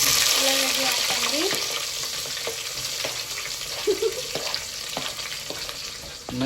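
Green chilies dropped into spluttering hot oil with cumin and onion for chicken biryani, a loud continuous sizzle with occasional crackles and stirring scrapes close by.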